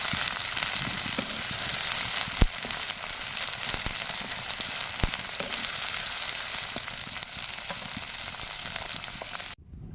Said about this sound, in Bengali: কেটে ধুয়ে রাখা উচ্ছগুলো দিয়ে দিব এই তেলের মধ্যে ভালোভাবে ভেজে নেব উচ্ছেগুলো